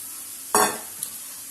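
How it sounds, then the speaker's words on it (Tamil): Grated beetroot goes into a hot pan and bursts into a sudden loud sizzle that fades over half a second, followed by a faint clink of a utensil, with no one talking. "ஸோ நம்ம நல்லா சீவி வச்ச பீட்ரூட் இருக்கு இல்லையா, அதையும் எல்லாத்தையும் போட்டுட்டோம். இப்போ நல்லா அதை வதக்கி விடணும்."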